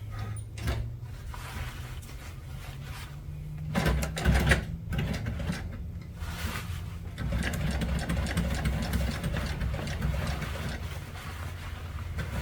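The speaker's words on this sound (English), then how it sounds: "We're going to start sewing this patch on here." A sewing machine stitches a patch onto canvas sandwiched between vinyl layers, a steady mechanical whir with a louder burst around the middle and continuous running toward the end, no voices.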